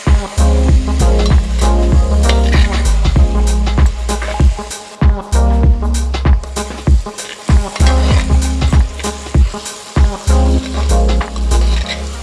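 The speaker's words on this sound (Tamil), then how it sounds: "அடுத்ததா நம்ம கட் பண்ணி வச்சிருக்கிற கத்திரிக்காய் சேர்த்துக்கலாம்." Tomato and brinjal frying in a pan for a dried fish curry, a loud close sizzle broken by rapid repeated stirring scrapes and clacks of a spoon against the pan, with no talk.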